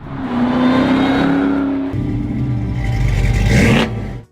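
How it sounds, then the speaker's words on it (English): A Shelby Mustang V8 revs hard and loud, the engine note climbing, dropping briefly as if shifting, then surging again to a roaring peak before cutting off. "These cars were not just fast, they were thunderous, with each rev of the engine a testament to American muscle."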